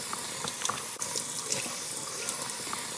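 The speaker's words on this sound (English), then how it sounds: "I'm just putting them right under the faucet and I'm rinsing them" Cold water pours steadily from a kitchen faucet over pasta noodles being rinsed, a continuous close hiss and splash with small clicks and clatters of the noodles and strainer.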